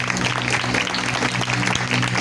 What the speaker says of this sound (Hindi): कलामे मुकद्दस के लिए जोरदार तालियां बजाएं।